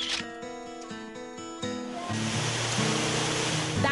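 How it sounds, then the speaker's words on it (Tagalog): The steady broadband rush of Burawisan Falls, a waterfall in Laguna about 350 feet tall, rises halfway through and continues under background music. "Pagkatapos ng ilan pang oras, bubulaga na sa inyo ang Burawisan Falls."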